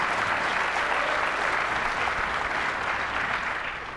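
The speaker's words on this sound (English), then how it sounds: "Crowd shows their appreciation for that shot." Steady applause from the crowd at a professional pool match at the Mosconi Cup, a dense even clatter of clapping that tapers slightly at the end.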